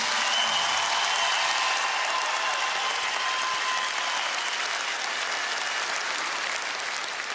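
An audience applauds a musician at a concert, a thick, continuous patter of many hands that stays loud and steady, then eases slightly toward the end.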